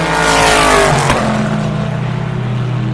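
A powerful Corvette race car thunders by at close range at Le Mans, its deep engine roar swelling and then dropping in pitch as it moves away.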